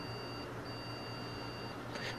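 A faint, high-pitched motherboard error beep from an MSI G41M4 board holds as a long steady tone with one brief break, over a low background hum.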